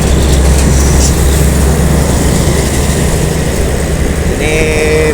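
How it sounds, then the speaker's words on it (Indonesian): Loud, steady engine roar of a tourist bus passing close by on the Palembang–Betung toll road, with a whining tone rising near the end. "bus-bus wisata ya yang pada melintas"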